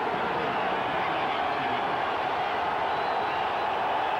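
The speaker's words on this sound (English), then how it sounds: "The crowd really kicks in now." A stadium crowd at a 1994 Denver Broncos at Seattle Seahawks NFL game keeps up a loud, steady roar of cheering with no break.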